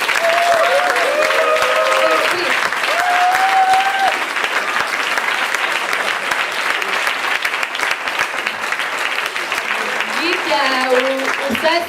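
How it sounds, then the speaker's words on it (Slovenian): Loud sustained applause from a live audience at a comedy evening, steady clapping throughout with scattered voices and cheers mixed in. "tudi prosim en velik aplavz"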